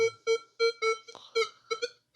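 A Minelab Manticore metal detector sweeps over a thin gold ring and gives a quick series of short, rich, evenly spaced beeps, with one warbling note partway through, clear and close.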